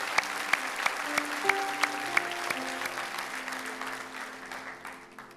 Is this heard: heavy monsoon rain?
no